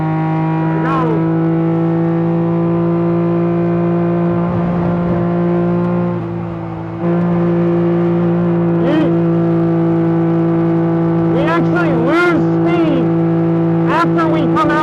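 A time attack kei truck on a race track, its small engine holding a steady, loud drone with brief dips and surges as it lifts and gets back on the throttle, and voices talking over it at times.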